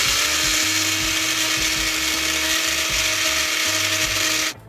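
A little mini blender whirs steadily as it blends sauce, a loud close motor drone with a rattling, ratcheting texture that cuts off abruptly at the end.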